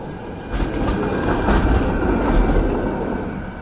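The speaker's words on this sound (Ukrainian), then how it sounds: "Мчать трамваї." Trams rush past along a newly built road in Kyiv, a loud, close, continuous rumble with rail clatter swelling and fading over a few seconds, no voices.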